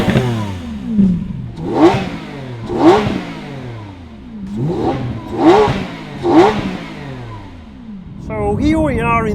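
A Lamborghini Aventador SV with an exhaust remap revving, its engine note rising and falling in about half a dozen sharp, loud bursts, each climbing swiftly before dropping away, then a steadier drone at the end.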